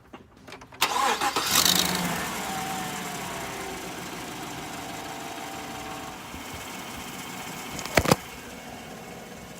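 A 2014 Chevrolet Silverado cranks over and fires up after a battery exchange, then settles into a steady idle close by, with a brief louder rev or clunk near the end; no talking.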